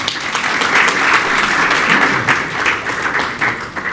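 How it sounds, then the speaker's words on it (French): Audience applause for a retiree, Nizam, at a book launch event, dense steady clapping from a room of people lasting throughout, loud and close with no talking over it. "des applaudissements pour Nizam."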